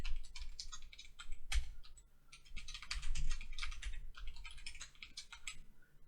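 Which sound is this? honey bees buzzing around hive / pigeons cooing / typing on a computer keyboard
typing on a computer keyboard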